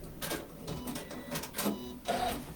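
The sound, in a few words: sewing machine back stitching a tote bag side seam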